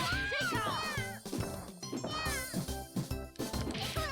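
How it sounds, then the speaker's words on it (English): A high, cartoonish meow repeats over and over amid fighting-game music and hit sounds, a female character crying out each time she is hit, the cat cries bending up and down in pitch. "She's meowing every time I hit her, too."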